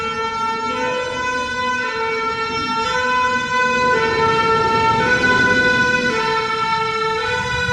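A fire engine siren sounds near the flooding Charente river. It is loud and close, a steady two-tone wail switching between high and low pitch about every second throughout, with no talking.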